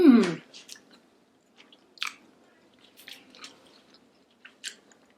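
Someone chews a homemade vegan Hot Pocket close to the mic. A loud first bite is followed by soft, moist, intermittent chewing and squishing sounds with quiet pauses between them.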